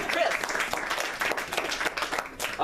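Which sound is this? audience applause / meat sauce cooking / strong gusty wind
audience applause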